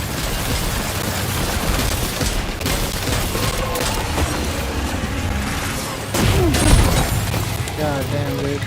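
Dense bursts of game gunfire rattle continuously alongside booming impacts, loud and close, with a sharp louder burst near the end.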